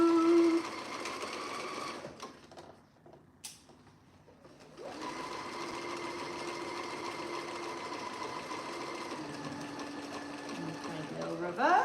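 A sewing machine stitches a roll-neck seam on a T-shirt, running as a steady close mechanical whir. It stops for a couple of seconds near the start, then resumes for a long continuous run with a slight change in pitch near the end.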